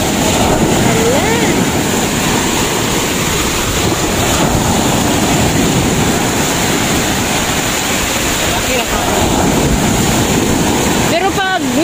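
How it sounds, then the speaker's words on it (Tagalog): Loud, continuous roar of surf and churning water fills the whole stretch, with wind buffeting the microphone and a voice briefly audible beneath. "Ang lakas ng alon."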